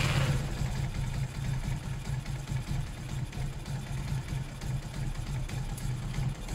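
A Zontes 125 motorcycle engine idles unevenly close by, a low throbbing putter that stumbles and dips in level as if about to cut out, with no talking.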